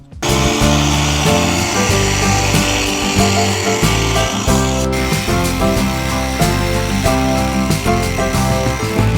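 Polishing machine buffing a boat hardtop, a loud steady motor whine with a droning hum that shifts slightly in pitch as pressure changes, running continuously and up close with no talk.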